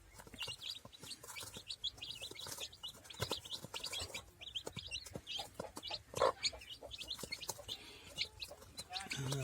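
Many small chirps and peeps from a group of chicken chicks, dense and continuous at close range, with occasional louder calls and low background murmur.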